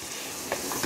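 Onions frying in a pan while being stirred, a brief, steady sizzle with a soft scrape or two, close and alone.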